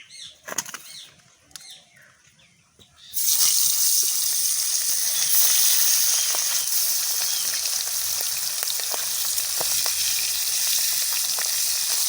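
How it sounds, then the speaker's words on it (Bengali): Pangas fish pieces going into hot oil. A few quiet handling clicks give way to a sudden loud, dense sizzle that stays steady and crackling to the end, close up and with no talking. "মাছগুলো এবার তেলেতে দিলাম"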